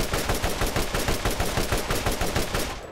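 Turret gunfire in the Borderlands game, a loud, rapid, evenly paced stream of automatic shots rattling continuously for nearly three seconds.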